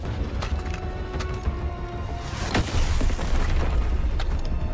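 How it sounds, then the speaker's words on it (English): Explosions boom in Suicide Squad: Kill the Justice League, a series of heavy blasts and bursts with one sharp crack near the middle, then a dense rolling rumble of combat that builds louder toward the end. "I don't know if there's like so much explosions going on"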